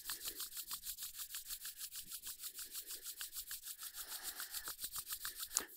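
Two palms rub together in a circular motion, making soft, rhythmic swishing strokes that repeat evenly about three or four times a second, close and quiet with no voices.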